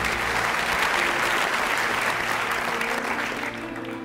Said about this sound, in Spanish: Venga, otro aplauso para Doxar Brown.